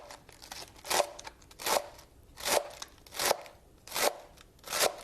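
A knife slices through crisp romaine lettuce in six steady, evenly spaced crunching cuts, close and fairly quiet, with no talking.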